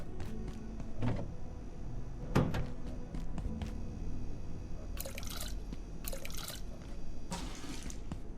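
Water poured onto a planted seed in the video game Abiotic Factor, heard as a few short splashy bursts of liquid near the end, preceded by soft drips and light clicks over a low background hum.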